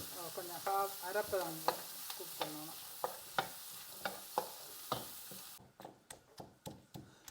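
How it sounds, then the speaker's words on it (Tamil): Onions sizzle in oil with repeated metallic clinks of a spoon stirring in a pan, steady and close, with no voices. "வெங்காயம் போட்டுக்கு இப்போ கொஞ்சம் நல்லா தாளிக்கணும்"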